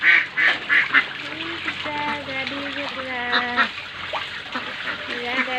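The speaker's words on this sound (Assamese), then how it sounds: "আমাৰ হাঁহ গা ধুই আছে" Domestic ducks splash and bathe in water at a village home in Assam, giving loud repeated honking quacks up close over watery splashing.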